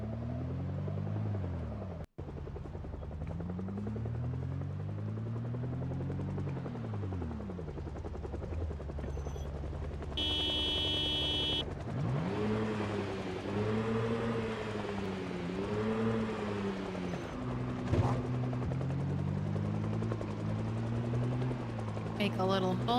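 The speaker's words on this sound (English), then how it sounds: "Hello, helicopter." A helicopter in the Project Zomboid video game drones with a steady rotor thrum that swells and fades as it passes overhead. A person talks over it, with brief game sound effects in between.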